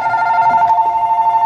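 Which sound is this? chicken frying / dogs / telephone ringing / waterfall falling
telephone ringing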